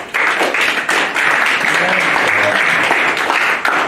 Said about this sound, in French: Je veux qu'on acclame le Seigneur pour elle.